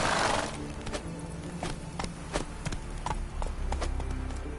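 A horse gallops in The Witcher 3, its hooves striking in a quick, steady clip-clop rhythm close up, with a rider's faint vocal urging underneath.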